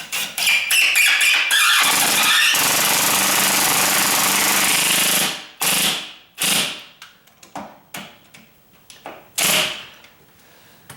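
A 3-inch screw is driven into a door hinge with a loud, rattling impact burst that lasts about five seconds, followed by several short, sharp bursts with pauses between them.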